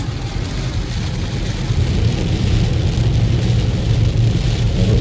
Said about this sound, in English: And it's called rain.